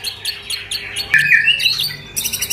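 White-rumped shama (murai batu), a competition-prospect bird, calling loudly and close by with a rapid series of sharp chirps, squawks and whistled phrases, heard alone without speech.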